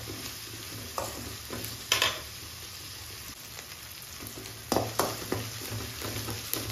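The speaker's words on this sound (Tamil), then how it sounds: "வெங்காயமும் பூண்டும் நல்லா வதங்கி வரணும்" Onion and crushed garlic sautéing in oil in a pan, a quiet continuous sizzle broken by occasional sharp stirring scrapes, with no talking.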